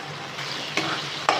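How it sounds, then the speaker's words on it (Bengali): Spices for a parshe fish curry frying in mustard oil in a pan, a continuous close sizzle with two sharp stirring scrapes near the end, no voices. "খুব ভালোভাবে একদম সুন্দর করে কষে গেছে, একদম তেল বেরিয়ে গেছে"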